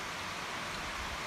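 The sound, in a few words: rain starting to fall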